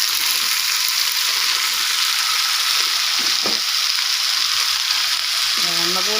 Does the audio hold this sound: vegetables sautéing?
yes